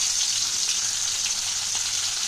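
Snakehead fish, rubbed with salt and turmeric, frying in mustard oil in a wok, giving a steady, close hissing sizzle that holds evenly throughout with no speech over it.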